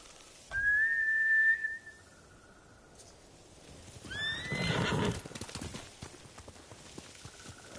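Horses in the video game Ghost of Tsushima give a shrill, whistling neigh, then a second whinny a few seconds later over a burst of clip-clopping hooves, fairly near and with no talk.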